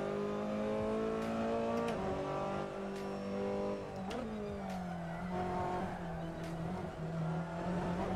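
Formula Ford in Assetto Corsa at Mugello on cold, low-grip tyres, a buzzing engine holding high revs with shifts and dips through corners and short tyre scrubs, loud and continuous with no voice.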